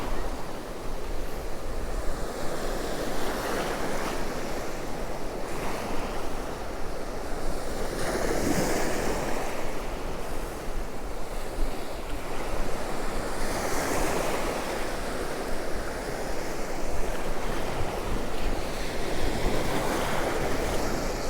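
Sea waves surge and break around an angler lure fishing while standing in the water at Cromer Beach, a steady rolling wash of surf with wind buffeting the microphone, no voices.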